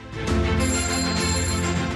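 A telephone rings loudly and steadily for about two seconds, a bright sustained ringing tone with no voices over it.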